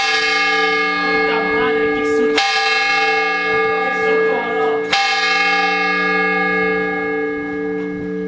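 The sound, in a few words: church bells ringing in Seville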